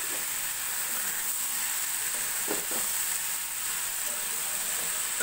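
Pumpkin slices sizzling and frying in a pan after sugar is added, a steady bright hiss with a few soft stirring scrapes, continuous and close.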